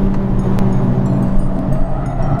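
A 2017 Honda Civic Type R drones steadily at speed on a race track, a loud continuous engine and road roar heard from inside the car.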